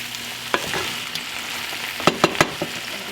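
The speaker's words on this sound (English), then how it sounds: "Take this meat and vegetable mixture out of the frying pan" A meat and vegetable mixture sizzles in a frying pan while a utensil scrapes and knocks against it, scooping it out, with a quick cluster of clatters near the end.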